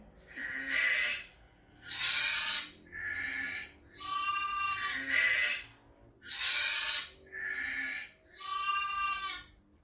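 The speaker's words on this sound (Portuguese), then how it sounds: "é a ovelha, crianças. Olha a ovelha aí." A sheep bleats repeatedly in a steady series of about eight drawn-out, wavering calls, close and clear with short gaps between them and no talking.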